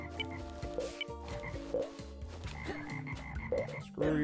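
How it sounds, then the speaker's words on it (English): Frog croaks from the Treasure Adventure World video game, repeated game-style calls recurring over a busy, steady musical backing. "Okay, so I'm not going to be able to kill these frogs."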